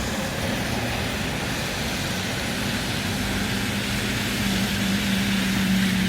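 A steel blue Alexander Dennis Enviro 400 double-decker bus passes through a bus station, its engine a steady broadband rumble that swells slightly toward the end amid surrounding traffic noise, with no talking.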